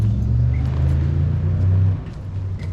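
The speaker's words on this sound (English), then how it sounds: "You hear that? I gotta wait right here for that car." A car rolls past at a car show with a low, droning engine hum that holds steady and close, then eases off as it moves away.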